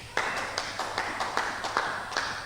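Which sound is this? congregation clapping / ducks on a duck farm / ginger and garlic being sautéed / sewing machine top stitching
congregation clapping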